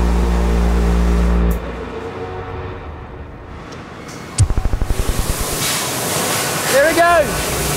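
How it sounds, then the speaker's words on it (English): One of the world's largest diesel engines, 18,000 litres, starting on compressed air: after a low drone cuts out, a rapid series of loud rhythmic thumps builds into a running rumble, with voices talking over the end. "We're about to fire up one of the biggest engines in the world. It starts with compressed air"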